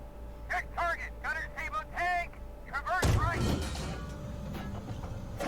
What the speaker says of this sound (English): Tried to take a pot shot at that APC there.